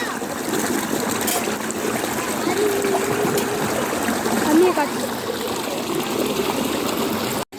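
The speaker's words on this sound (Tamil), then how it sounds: "மாவு கலக்கிறதுக்காக தண்ணி பிடிச்சிக்கிருவோம்." Water runs and splashes as it is collected to mix gram-flour bajji batter, a steady trickling stream with faint voices in the background.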